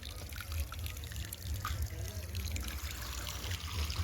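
A steady flow of water runs onto a concrete roof slab outdoors near farm fields, a continuous low trickling wash with no clear breaks, faint background voices.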